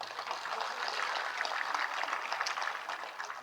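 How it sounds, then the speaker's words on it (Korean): Steady applause from a large audience at an opening ceremony, honoring the event's officers, with dense clapping filling the room for several seconds, heard alone without talk. "행사를 위해서 주야로 밤낮을 가리지 않고 이 행사를 한 임원들에게 큰 박수를 부탁드립니다."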